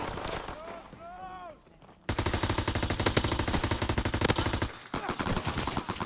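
Heavy automatic gunfire in Call of Duty erupts after a quieter stretch of game sounds, with loud, rapid rattling bursts, a brief pause, then more shooting.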